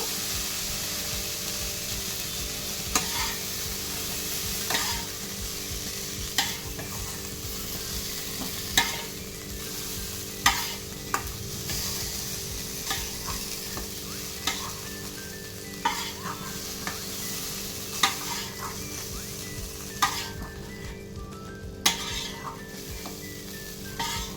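Cauliflower pieces fry in hot oil with a continuous close sizzle and hiss, punctuated every couple of seconds by sharp clinks of a spatula turning the florets in the pan.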